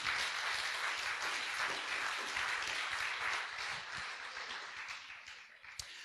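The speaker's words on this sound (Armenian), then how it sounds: "Եկեք ծափահարենք Տիրոջը եւ օրհնենք" A church congregation claps together in a sustained, dense burst of applause, steady and full for several seconds before thinning slightly at the end, with no voices over it.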